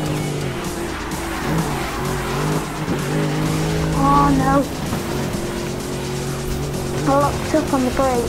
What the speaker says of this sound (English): I locked up on the brakes